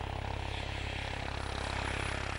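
Steady, loud rotor and turbine drone from a combat helicopter in flight, a continuous low pulsing beat with broadband engine roar throughout, no voices.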